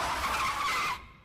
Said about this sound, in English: I heard the car screech to a halt.